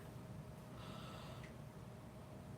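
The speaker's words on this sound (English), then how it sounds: "try yawning once" A soft, breathy yawn with a quick inhale, demonstrated slowly in a singing lesson: a brief rush of drawn-in air, faint and close, with no talking.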